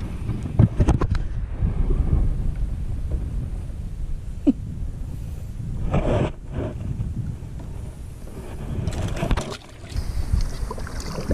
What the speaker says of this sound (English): Gotta love this wind.